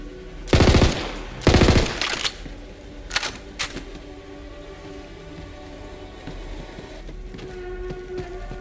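Two bursts of rapid automatic gunfire from the video game Borderlands 3 are fired at runes, followed by a few single impact cracks, then a low ambient game hum continues.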